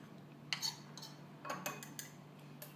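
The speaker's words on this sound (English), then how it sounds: "take a fork to mix all the ingredients" A fork mixes dry ingredients, all-purpose flour among them, in a bowl for a microwave pizza tart, giving a few light close scrapes and clinks against the bowl with quiet gaps between them.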